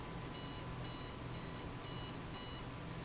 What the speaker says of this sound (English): It's going to beep when it comes back down.